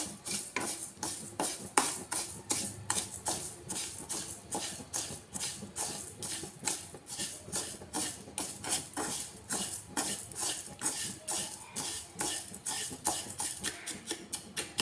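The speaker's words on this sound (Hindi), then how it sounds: "शक्कर को धीरे धीरे चलाते हुए मीडियम फ्लेम पर इसे कैरेमलाइज कर देना है" Sugar is stirred slowly in a pan over a medium flame as it caramelizes for chikki. A utensil scrapes the pan in a steady, even rhythm, faint but continuous throughout.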